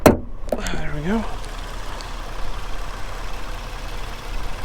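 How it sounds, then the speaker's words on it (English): A 2015 Ford Mustang with a V6 engine idles with the hood open, giving a steady, smooth, even hum that holds at moderate level after a few brief sounds at the start. "as you can hear, it does have a very smooth, consistent idle"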